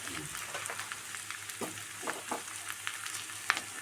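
Coriander powder and chicken masala being mixed in a frying pan, with a soft, steady sizzle under irregular scraping strokes of a spoon, quiet and close, with no voices.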